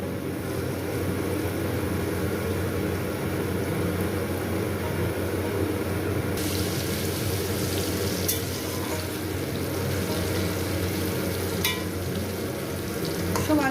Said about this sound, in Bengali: আমি আলুগুলোকে প্রথমে লাল লাল করে ভেজে নেব